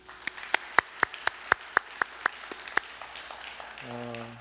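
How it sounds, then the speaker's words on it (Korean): Church congregation giving a round of applause during a worship service: a run of sharp, evenly spaced claps, close and fairly loud, trailing off into a held organ-like tone at the end. "우리 하나님 앞에 감사의 박수 올려드리겠습니다."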